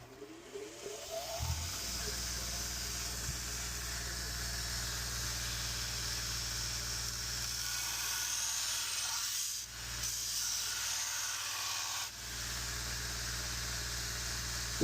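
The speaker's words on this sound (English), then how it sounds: "we're going to cut and do a new primary grind on this single bevel knife" A grinder steadily wet-grinds a new primary bevel on a damaged single bevel knife on about a 50 grit belt, giving a continuous loud hiss with a low motor hum underneath and brief dips in pressure.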